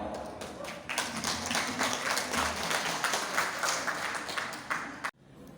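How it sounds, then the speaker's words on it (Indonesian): An audience at an inauguration ceremony in Pekanbaru breaks into loud, sustained applause with dense overlapping claps, which cut off abruptly near the end. "Berikan aplaus yang meriah kepada Kompak."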